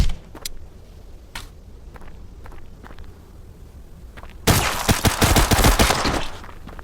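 An UZI fires in a video game. A few sparse single shots are followed by a loud, rapid burst of automatic fire near the end.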